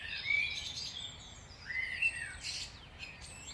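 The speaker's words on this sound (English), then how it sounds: "Songbirds. They chirp their song." Songbirds chirping outdoors, a few faint high warbling phrases and tweets repeating over quiet background hiss, with no one talking.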